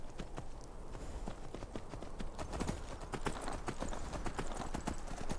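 Hoofbeats of a giant black goat mount galloping in Skyrim VR, a steady fast clip-clop rhythm running throughout, fairly close and continuous with no talking.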